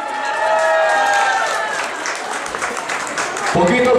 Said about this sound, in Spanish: Fuerte el aplauso pues para Mireia